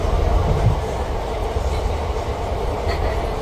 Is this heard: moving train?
yes